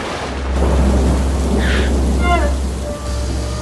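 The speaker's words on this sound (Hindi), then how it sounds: "तूफानी रात का अंधेरा शहर को अपनी चपेट में ले रहा है, बिजली की कड़क के बीच।" Stormy night rain and rolling thunder in an animated rescue setting, a steady loud wash of rain with low rumbling throughout, a brief tonal effect partway through.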